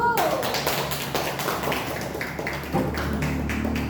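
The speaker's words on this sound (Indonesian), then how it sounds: "give applause untuk kelompok 1" Classroom applause for a student group: a steady patter of many hands clapping throughout, mixed with voices talking over it.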